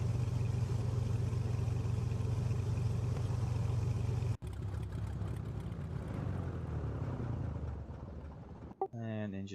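A DC3 aircraft engine winds down in the Prepar3D flight simulator, a loud steady drone that cuts off abruptly, then a lower rumble lingering and fading, with someone talking over it.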